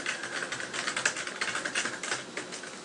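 Rapid typing on a computer keyboard, a steady patter of close, crisp key clicks with no voices.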